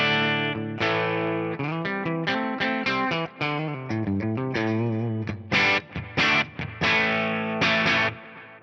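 An electric guitar plays a run of chords and single notes through an Axe-Fx III Marshall amp tone at edge of breakup, with reverb and delay trailing each strike.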